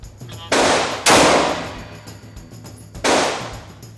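Three loud, sharp pistol shots from a SCCY CPX-2 handgun fitted with an aftermarket guide rod and spring, spaced unevenly, each followed by a long ringing decay. No speech.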